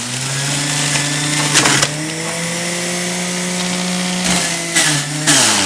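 An Omega Big Mouth juicer spinning at 11,000 RPM while juicing produce, a loud steady motor whine with strong humming tones and brief grinding surges as pieces are fed in.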